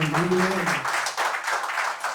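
An audience applauds in a broad, steady wash of clapping during a show on violin background music; a voice sounds briefly at the start before the clapping carries on alone.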